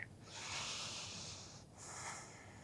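Slow, deep yoga breath during a forest flow session: a long airy inhale followed by a brief pause and a second breath, close and hissy, with no talking.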